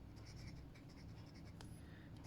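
A Hongdian A1 fountain pen with a flexible 14K gold extra-fine nib writes on paper, giving soft, close scratchy strokes in short irregular bursts with brief pauses between them and no talking.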